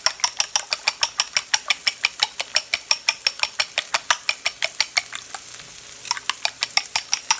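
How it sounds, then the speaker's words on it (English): Whisk beating a breakfast mixture with tomatoes in a bowl, a fast steady run of close, bright metallic clicks and scrapes that pauses briefly near the end and then resumes, with no talking. "some tomatoes, and we're just gonna whisk"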